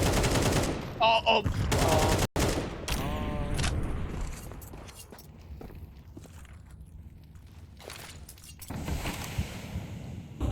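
Gunfire and footsteps during a Counter-Strike esports match on the Anubis map, 9z versus MIBR: sharp shots and bursts early on, then quieter movement and scattered sounds before another louder stretch near the end.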